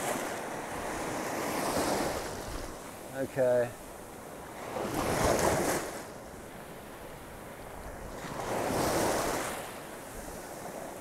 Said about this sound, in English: I'm battling the waves at the moment.